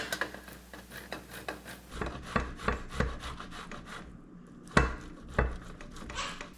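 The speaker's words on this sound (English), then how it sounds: "I am going to shred my half cup for my butter mixture" Cold butter being shredded on a metal grater, with rhythmic scraping rubs of varying strength and a few louder knocks against the grater, close up and with no voices.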